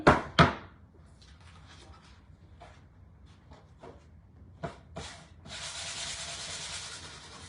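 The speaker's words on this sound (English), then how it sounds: "Let's go ahead and sand this just a little bit." Hand sanding a painted craft surface to roughen it slightly, heard as two sharp knocks, a few light scattered scrapes, then a steady close-up rasping rub of sandpaper on the board.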